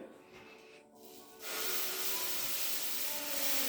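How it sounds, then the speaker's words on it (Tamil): Thulasi dosa batter is poured onto a hot, oiled stone griddle and spread, making a loud, steady sizzling hiss that starts abruptly after a quieter moment. "இது ஏற்கனவே எண்ணெய் ஊற்றி இப்போ நான் தோசை ஊற்றுறேன்."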